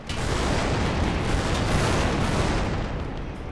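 Dense, continuous barrage of tank gunfire and heavy blasts in a tank simulator game, with Tiger tanks advancing, loud and chaotic throughout with no pauses.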